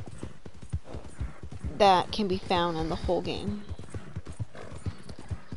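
Horse hooves clip-clop in a PS4 video game while someone talks over them, with a brief whinny-like burst in the middle; steady rhythmic steps sit under the speech throughout.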